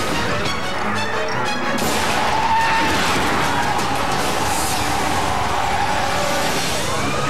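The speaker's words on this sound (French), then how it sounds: "Un automobiliste imprudent roule trop vite en parlant au téléphone." A speeding car swerves at the last second to narrowly avoid a collision, with loud, continuous road noise, tire skid and a rushing engine sweeping close by throughout.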